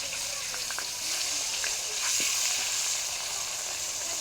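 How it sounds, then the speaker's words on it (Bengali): Fish frying in oil in a pan over a wood-fired clay stove, giving a steady close sizzle and hiss with faint crackles, no voices. "মাছ ভাজা বসিয়ে দিয়েছি"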